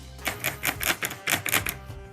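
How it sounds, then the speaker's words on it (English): A spray bottle squirts water onto potting soil while a spider plant is being propagated: about eight quick, hissing sprays in a steady rhythm, close and fairly loud, with no talking. "Wet it, and I will spray water on the soil."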